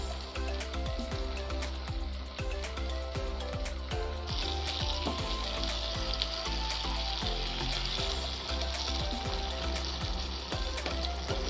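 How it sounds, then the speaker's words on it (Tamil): Chopped tomatoes fry in hot oil with mint leaves for veg dum biryani, giving a loud, steady sizzle and crackle that runs throughout with small stirring sounds. No voices are heard. "தக்காளியை நீட்டாக ஃப்ரை பண்ணிக்கோங்க."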